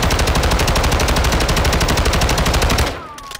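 Rapid automatic fire from an STB 556 assault rifle in Modern Warfare 2, a steady loud stream of evenly spaced shots for nearly three seconds that cuts off abruptly into a brief quiet tail.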